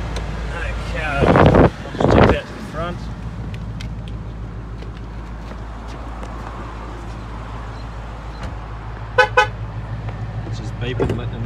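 A Ford Mustang with a 5-litre V8 gives short beeps as it locks, two loud bursts early on and a quick double chirp near the end, with steady outdoor background noise between.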